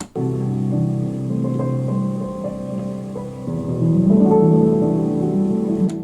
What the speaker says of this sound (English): I wanted the rain to be kind of stereo and the piano more in the middle a little bit